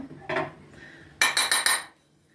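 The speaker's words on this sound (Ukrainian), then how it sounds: "Усе старанно вимішуємо щоб повністю розчинився цукор і лимонна кислота." A metal spoon scrapes and clinks against a pot in a quick burst of strokes, stirring sugar and citric acid into homemade lemonade, then stops, leaving near-silence.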